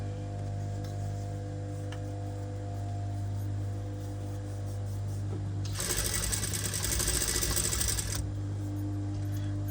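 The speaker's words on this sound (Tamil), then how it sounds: "அப்படியே நீளமாக தைச்சி கொண்டு வரேன்" A sewing machine stitches a long straight seam along a blouse tie cord, a steady close whirring burst running for a couple of seconds over a constant low motor hum, with no talk.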